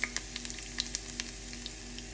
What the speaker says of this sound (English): so you just want it to sizzle